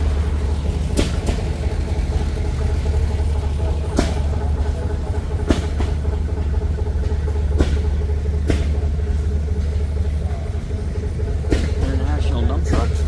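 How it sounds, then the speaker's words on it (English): An old Ford drives past at a steam show in a rural setting, with a continuous low engine rumble, sharp clanks and thumps, and people talking in the background. "Punching along an old Ford."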